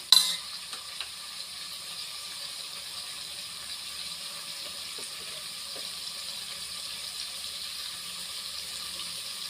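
Mushrooms sizzle steadily in a hot pan while being stirred for a mushroom biryani, a constant close frying hiss with a few soft clinks at the start and no talking.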